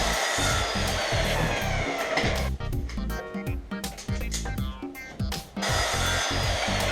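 Circular saw guided by a speed square cuts 1.5-inch-wide wood pieces for an Adirondack chair, a loud steady whine through the whole span with uneven dips as the blade bites through each piece.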